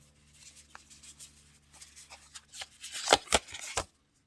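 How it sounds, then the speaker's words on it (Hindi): Tarot cards are drawn from a deck in short papery slides and taps, growing louder near the end with three crisp snaps close by, and no talk over them. "दो कार्ड्स और निकालते हैं।"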